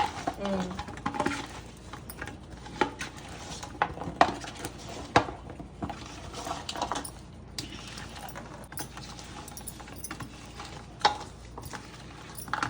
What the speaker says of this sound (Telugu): నేను ఇప్పుడు పాకం ఇలా కలుపుకుంటూ ఉండాలి